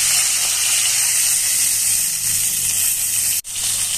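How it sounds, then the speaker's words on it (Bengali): Pieces of chitala fish fry in hot oil, giving a loud, continuous, close sizzle that barely varies except for one abrupt momentary dropout near the end, with no talking. "আর বাকি যে মাছগুলি আছে সেগুলি এবার ভেজে নেব।"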